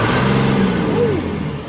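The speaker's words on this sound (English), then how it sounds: "this truck has" A loud engine of an old abandoned fuel truck rumbles close by, its pitch rising and falling as it revs.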